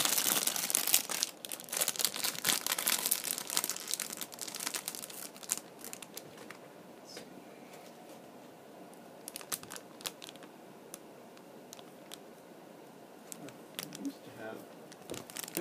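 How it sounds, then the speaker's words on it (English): Plastic crinkles and rustles close up as a bag is torn open and handled, with sharp crackles scattered throughout. "So let's open up the bag."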